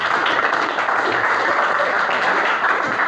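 Audience applause at an in-house public speaking training session at a tahfidz boarding school, a steady dense wash of clapping that fills the whole stretch at even loudness.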